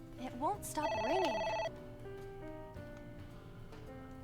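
A single electronic ring from a phone in the game AI: The Somnium Files sounds briefly among game chimes and tones, then gives way to soft background music.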